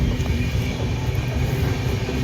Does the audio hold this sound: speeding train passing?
yes